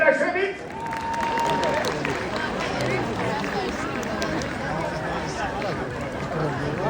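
Audience applause and crowd chatter during a theatre rehearsal, a steady dense clatter of clapping mixed with murmuring voices and talk throughout, sustained at moderate level.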